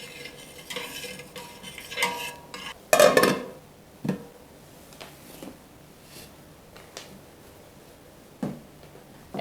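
A utensil stirs starter culture into warm milk in a pot for homemade white cheese, giving close, intermittent scrapes and clinks against the metal, with one louder burst of stirring and quieter taps after it.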